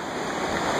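Steady rushing of the Kaweah River flowing near Pumpkin Hollow Bridge in Three Rivers, a continuous broadband wash of water with no talk over it.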